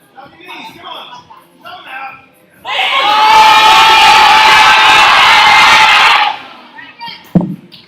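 A crowd at the 2021 Avia Performance Open lifting competition erupts into loud, sustained cheering and whooping for a lifter's squat attempt, lasting several seconds before fading. Quieter talk comes before and after.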